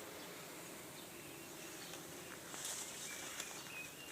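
Honey bees fanning at the wall of a hive during hot weather make a steady, close insect hum that continues throughout, with a brief brighter buzz near the end.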